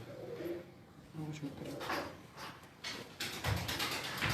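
A Jogi pigeon, a rare fancy breed, coos in a few soft low notes close by, mixed with clattering and handling noises and someone talking over it.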